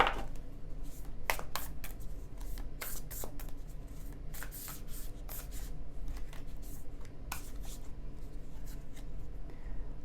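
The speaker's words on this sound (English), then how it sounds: "I'm going to take one more card, a little bit of parting words of wisdom for Spirit." Oracle cards are shuffled and one is drawn, giving soft papery rustles and scattered riffling snaps close by against a quiet room background.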